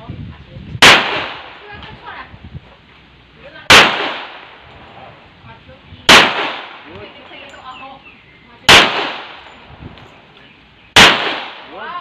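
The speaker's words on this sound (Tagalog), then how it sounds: "Firing!" Five loud gunshots fired at intervals of about two to three seconds during practice shooting, each a sharp crack with a short decaying tail, with quiet background noise between shots.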